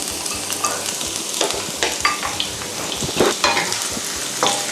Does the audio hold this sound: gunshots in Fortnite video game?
no